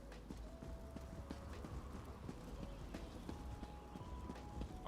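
Horse hooves clip-clop in the video game Elder Scrolls Online, a soft steady patter of hoofbeats set against a constant low rumble and a dense game soundscape, with brief tonal game sounds drifting in.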